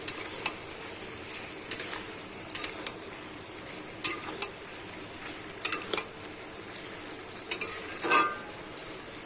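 Prawns, ridge gourd and poppy seed paste are stirred in a pan for a Bengali-style dish. Scattered spatula scrapes and light metallic clinks sit over a faint, steady sizzle.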